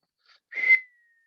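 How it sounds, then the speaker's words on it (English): A single short, high whistling tone swells briefly and fades into silence, thin and airy like wind whistling through a gap. "one whistling sound you will hear due to wind"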